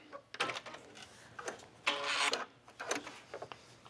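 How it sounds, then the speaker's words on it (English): A sewing machine stitching a knit waistband onto an A-line skirt, running in several short bursts of rapid mechanical whirring separated by brief pauses, close and fairly loud. "I'm just stitching this"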